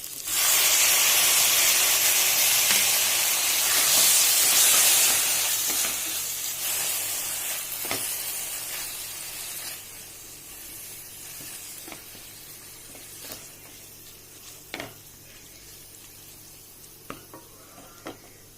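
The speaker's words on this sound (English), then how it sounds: "I'm going to add 2 medium tomatoes chopped." Chopped tomatoes for tuvar dal hit a hot pan with a loud burst of sizzling that slowly fades to a quieter simmer, with scattered scraping clicks of stirring and no talk.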